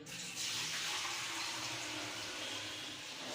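Water pours and splashes steadily as washed rice is squeezed out by hand in a kitchen, a continuous bright hissing stream close to the microphone.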